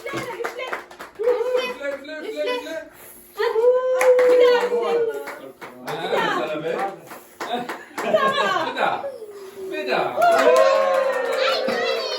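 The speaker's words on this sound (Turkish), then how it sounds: "Alkışlayın." Hands clap at a mother-and-son birthday celebration, mixed in with lively overlapping voices, including children, and what sounds like singing throughout.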